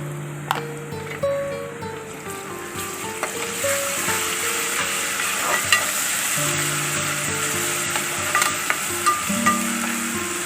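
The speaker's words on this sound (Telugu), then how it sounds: "అల్లం వెల్లుల్లి పేస్ట్ వేసుకోవాలి, పచ్చిమిరకాయలు, కరివేపాకు, ఉల్లిపాయలు, తాలింపులు అన్నీ వేసేసానండి" Oil sizzles steadily as ginger garlic paste, green chillies, curry leaves and onions fry in a tempering for drumstick curry, with occasional stirring scrapes and no talking.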